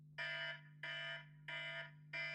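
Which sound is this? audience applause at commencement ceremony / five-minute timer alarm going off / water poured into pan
five-minute timer alarm going off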